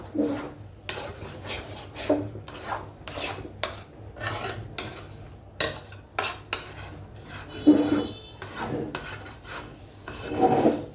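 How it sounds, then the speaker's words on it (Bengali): Repeated scraping and rasping strokes of a utensil against a pan as chana dal halwa is fried, steady and rhythmic, with occasional louder scrapes. "এটা আমি আরও ভাজবো, আরও 5 মিনিটের মতন ভাজবো।"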